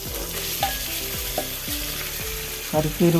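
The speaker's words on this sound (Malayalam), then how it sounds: "ഒന്ന് ഇളക്കി കൊടുക്കാം ഇനി ചിക്കൻ ചേർത്ത് കൊടുക്കാം" Chicken pieces stirred into Malvani masala in a hot pan sizzle steadily, with repeated scraping strokes of a spoon and a few louder clatters near the end.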